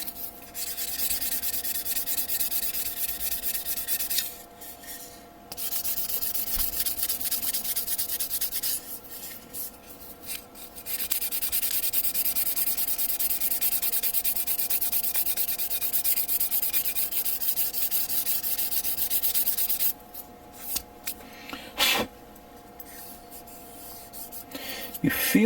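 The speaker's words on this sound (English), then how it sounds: "I'll give it a little sanding." Sandpaper rubbing back and forth on a small plastic part of a 1/144 HG Gundam model kit, steady and close, with a few short pauses between strokes.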